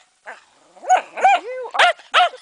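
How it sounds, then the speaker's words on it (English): A dog barking close by in a snowy outdoor setting, a handful of sharp barks in quick, uneven succession with a short growl-like yelp between them, no talk. "You just won't stop barking."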